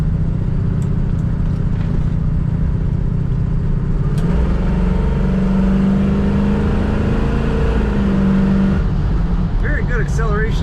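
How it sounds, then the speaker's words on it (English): A 1974 Pontiac Trans Am with automatic transmission revs and accelerates loudly, a deep steady roar that rises in pitch, with the growl of the exhaust up close. "Very good acceleration in this car."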